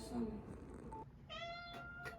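Cats meow on a casual walk, a couple of short, high mews heard faintly and close, mixed with light background noise and voices.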